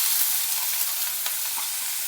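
Finely chopped onion frying in a pan with hing, red chilli and other spices, a steady bright sizzle with faint stirring clicks, close and continuous, no talking.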